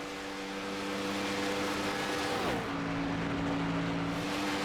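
A COT-style stock race car drives past on a track, its steady engine drone sweeping down in pitch as it passes, then settling again, moderately loud, with no talk.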